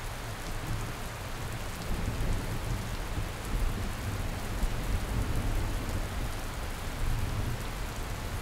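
Monsoon rain in central India's Satpura Maikal range near Kanha National Park falls in a dense, steady roar, with faint low rumbles that may be distant thunder and no voices.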